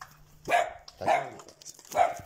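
A dog barks three times at a steady pace, each bark loud and close, in a home setting with no talking in between.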